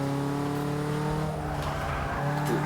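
Race cars in Forza 6 drone loudly and continuously, with sustained engine tones and occasional tire noise, close and steady with no voices.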